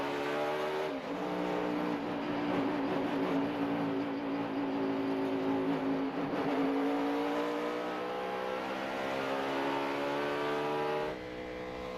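A NASCAR Sprint Cup stock car at Charlotte in 2009 accelerates hard off pit road, its V8 engine roaring loud and close with rising harmonic pitch for about eleven seconds before cutting off abruptly.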